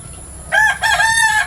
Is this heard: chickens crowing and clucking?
yes